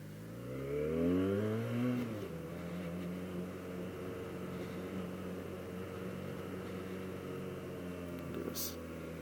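Benelli 302S motorcycle engine rising in a quick rev whose pitch climbs and then drops back to a steady idling drone that carries on at an even level.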